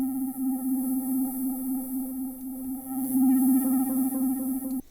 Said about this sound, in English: Maybe you want some distortion.